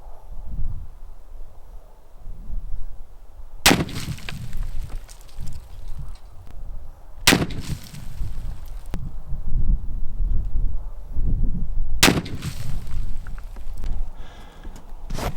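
Three loud, sharp 45-70 rifle shots with 300-grain Stone Hammer bullets at a 50-yard range, spaced a few seconds apart, each a sudden blast trailing off over steady outdoor background noise.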